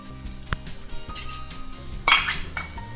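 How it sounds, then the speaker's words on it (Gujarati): Tomato paste goes into a pan of softening onions for a Maharashtrian vada rassa gravy: clinks and knocks of a spoon against the pot, one sharper scrape near the end, over a low cooking hiss. "ડુંગળી થોડી થોડી ચડવા લાગી છે તો હવે તેમાં ટામેટાની પેસ્ટ નાખીશું"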